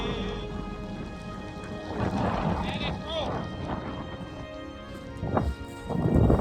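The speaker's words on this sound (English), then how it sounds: "the hailstorm hit us" Hail and wind batter hikers on the descent from Gran Paradiso, a dense close rattling wash of storm noise with rising gusts and heavy breathing or movement sounds near the end.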